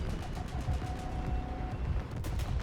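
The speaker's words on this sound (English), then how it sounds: "how did none of those machine gun shots hit?" An anti-aircraft machine gun in War Thunder realistic mode fires in sustained, rapid bursts, blending into a dense low rumble of battle with engine drone, loud and continuous throughout.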